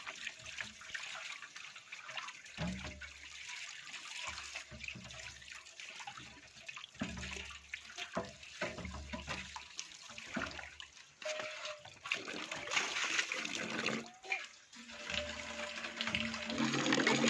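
Cold tap water runs and splashes, a fairly quiet, continuous rush with uneven spatters, growing a little louder toward the end, no one speaking.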